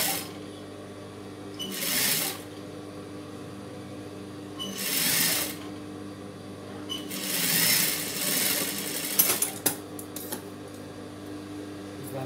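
A sewing machine stitches the neck of a chudidar in short whirring runs, each a couple of seconds long, separated by quiet pauses, followed by a longer run and a few clicks.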